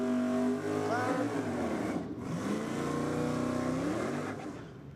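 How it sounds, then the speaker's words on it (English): A Holden VE Commodore drag car accelerates hard down the strip at Sydney Dragway, a loud, aggressive engine roar climbing through the revs with a gear change midway, with commentators talking over it. "that VE Commodore sounds aggressive, doesn't it?"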